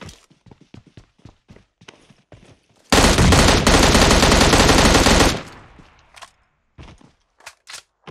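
Sustained automatic rifle fire in the PUBG Mobile battle royale game as the player jumps, a loud dense burst lasting over two seconds, surrounded by quick footstep taps and scattered clicks.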